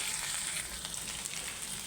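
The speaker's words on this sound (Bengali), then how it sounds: "আর এখানে হচ্ছে ভেন্ডি ভাজি করব, তাই পেঁয়াজ কাঁচামরিচ ভেজে নিচ্ছি।" Onions, green chillies and okra fry in a pan with a steady, fairly quiet sizzling hiss that runs unbroken throughout.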